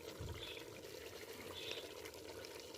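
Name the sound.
water poured into pot of frying beef paya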